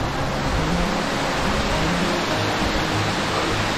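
A waterfall in the hills near Bhadraj rushes continuously, a dense, loud, unbroken roar of falling water heard close up.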